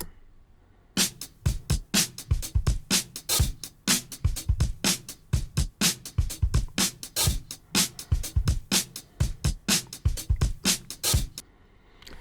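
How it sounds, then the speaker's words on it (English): A drum breakbeat loop plays alone, with punchy kicks and crisp snares repeating in a steady, syncopated rhythm for several bars. "it's just like a little breakbeat sounds like this"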